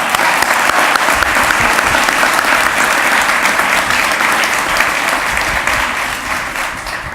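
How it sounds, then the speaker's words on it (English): Sustained applause from a crowd of residents at an outdoor press conference for the National Folk Festival in downtown Greensboro, dense steady clapping filling the space, loud and continuous throughout, easing slightly near the end. "give yourselves a round of applause"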